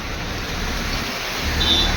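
Steady, dense hiss of heavy monsoon rain pouring down, unbroken and fairly loud for the whole moment.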